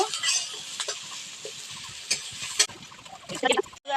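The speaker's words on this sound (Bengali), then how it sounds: "পেঁয়াজ দিয়ে দেব পেঁয়াজটা আবার একটু নেড়ে দেবো" Onions frying in oil with dried red chillies and whole cumin, stirred in a pan for a Bengali home-cooked dish; steady sizzle with repeated scraping and utensil clinks, close and continuous, louder clatter near the end.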